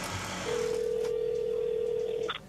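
A steady telephone dial tone rings out as a call is placed from a pediatric heart surgery unit, holding unbroken for about two seconds before a short higher blip ends it, with no voices over it.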